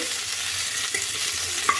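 Chopped onions and capsicum stir-fry in a pan over low heat, giving a soft, steady sizzle with a couple of faint clinks from stirring.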